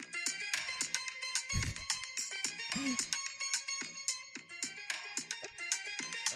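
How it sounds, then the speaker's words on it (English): A busy electronic ringtone plays a rapid, repeating melody of bright tones, loud and continuous, with a couple of deeper thumps mixed in. "Sounds like a ringtone"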